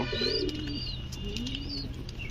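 A pair of Lahori pigeons coos softly and close by, with low rolling coos and a few higher chirps over a quiet background hum.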